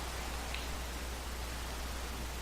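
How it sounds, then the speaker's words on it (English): Steady rain falls in an online video game, a dense even hiss that fills the whole stretch at a constant level with no voices over it. "We can probably fly and get rid of some of that rain noise."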